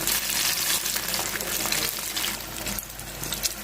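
Jackfruit bulbs coated in rice flour fry in coconut oil, giving a steady bubbling sizzle that stays close and fairly even, with a small dip in level near the end.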